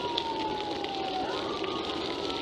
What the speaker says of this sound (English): Oh, it's an ambulance. Sounds like there's a couple of them.